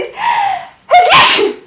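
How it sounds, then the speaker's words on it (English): A single person sneezes up close: a brief breathy intake followed by a sharp, loud burst of noisy exhalation, alone with no talking. "I'm going to sneeze. Excuse me."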